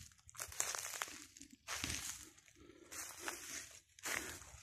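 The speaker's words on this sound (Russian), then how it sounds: "Все прямо хрустит под ногами." Dry crackling and crunching of leaves and twigs underfoot on a dry forest floor, in uneven bursts with short pauses, fairly close and moderately loud.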